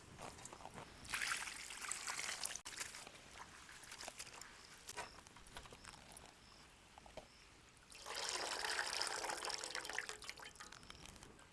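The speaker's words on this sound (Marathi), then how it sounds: "आपण अजून एका पाण्याने धुवून घेऊ" Chopped coriander gets a second rinse in fresh water to clear mud left by the rain. Two bursts of splashing and pouring are separated by quieter drips and handling, all close by and soft.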